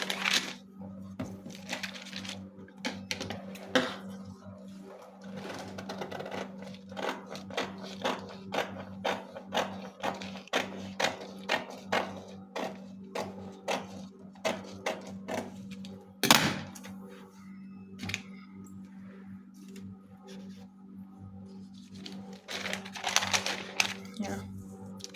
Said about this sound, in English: So go ahead and cut my pattern.